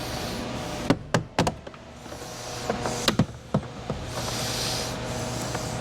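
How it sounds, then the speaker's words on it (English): The door trim panel of a 2021 Acura TLX Type-S is pried off, with sharp plastic clip pops and snaps at irregular intervals over a faint background hum. "Now we're gonna pull the panel off."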